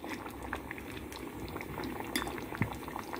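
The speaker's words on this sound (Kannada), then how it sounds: "ಒಂದು 5 ನಿಮಿಷ ಇದನ್ನು ಚೆನ್ನಾಗಿ ಕುದಿಸ್ಕೊಳ್ಳೋಣ" Sambar with tomato bubbling at a boil in a pot, a dense, steady burble of popping bubbles heard close and fairly quiet, with no talk over it.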